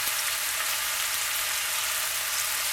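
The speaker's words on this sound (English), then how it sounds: "While this bacon is browning" Chopped bacon pieces browning in a hot pan give off a steady, even sizzle and crackle that holds at the same level throughout, close by and with no voices.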